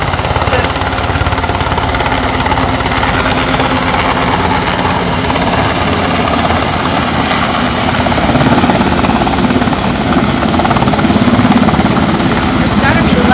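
A helicopter flies in low for a 10-10 helicast during a 2012 rescue adventure exercise, its rotor and engine roar loud, close and steady throughout, with no pauses.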